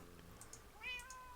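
In a video game, a cat lets out a short, faint meow, a brief chirping call that is over in about a second against a quiet background.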